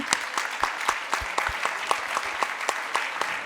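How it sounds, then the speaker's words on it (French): An audience applauds in a room, a steady patter of separate claps at a moderate level with no voices over it. "Donc je voudrais qu'on l'applaudisse."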